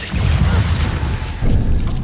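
A Levioso levitation spell is cast in Hogwarts Legacy as a loud, dense magical rush and rumbling burst, sustained throughout with a renewed surge partway through.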